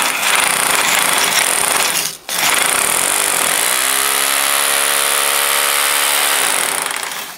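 A power drill bores a hole into a brick wall to fix timber, with a loud, continuous grinding whine. It breaks off briefly, resumes, then the motor winds down and trails off at the end.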